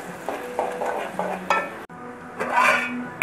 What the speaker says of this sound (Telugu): ఇవి కొంచెం గోల్డెన్ బ్రౌన్ వచ్చేదాక బాగా వేయించుకుందాం.